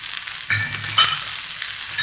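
Onions with Kashmiri chili sautéing in a pan for a spicy chutney give a soft, steady sizzle with a few brief stirring scrapes, close and without talk.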